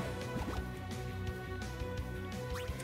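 Watery splashing and dripping effects from Pikachu's Splishy Splash move in Pokémon Let's Go Pikachu, layered over game music with rhythmic liquid squishes and gurgles.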